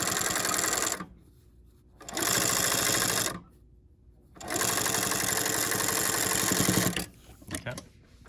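A sewing machine stitches a cloth face mask in three loud, steady bursts of rapid mechanical whirring, close by, with short quiet pauses between them and faint handling sounds at the end.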